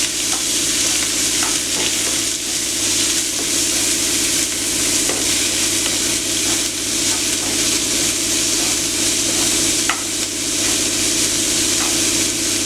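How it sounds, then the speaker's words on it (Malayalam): Shallots, crushed ginger, crushed garlic and sliced green chilli sautéing in a pan give a steady, loud sizzle, with occasional scrapes and clinks of stirring. "ചുവന്നുള്ളി, ഇഞ്ചി ചതച്ചത്, വെളുത്തുള്ളി ചതച്ചത്, പച്ചമുളക് വട്ടത്തിലരിഞ്ഞത്, ഇത്രയും സാധനം നമ്മളിട്ട് ഒന്ന് വഴറ്റിയെടുക്കണം"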